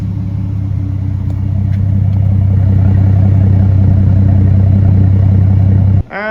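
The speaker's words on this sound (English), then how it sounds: "I'm just letting it idle, and the exhaust sounds nice" A 2JZ-swapped Subaru BRZ with an HKS exhaust idles steadily, a loud, close, deep rumbling drone holding flat for about six seconds before a brief dip at the end.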